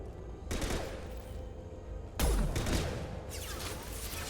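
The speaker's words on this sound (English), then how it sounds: "And that shot didn't hit anything." Gunfire in Mass Effect Legendary Edition crackles in several sharp volleys, a burst at the start, a heavier close blast past the midpoint, then more shots, each ringing out over a steady combat hum.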